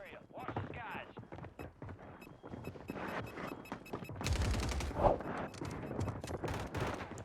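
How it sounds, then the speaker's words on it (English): Rapid hip-fire bursts from a gun in Warzone, a fast clattering string of shots, including a dense loud volley midway, while a player talks over the action. "And I'm just going to keep hip firing here."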